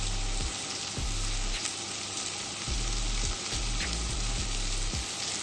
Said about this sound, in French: d'asperges dans du beurre avec du gros sel et du poivre et les laisser revenir quelques minutes